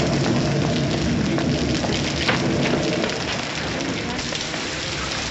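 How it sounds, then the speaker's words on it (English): Heavy rain pouring down in a street scene from the 1938 film Pygmalion, a dense, steady hiss of water beating on surfaces with no pauses and a faint low rumble beneath it. "If it's raining worse, it's a sign it's nearly over."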